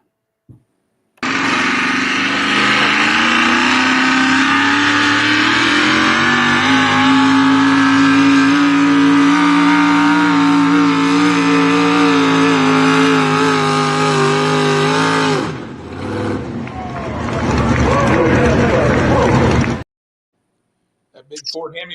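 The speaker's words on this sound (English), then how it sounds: "That big Ford Hemi was zinging" A big Ford Hemi-powered pulling truck revs hard and loud through a full pull run, its engine note climbing and holding at high pitch for about fifteen seconds before dropping off and surging again, then cutting out.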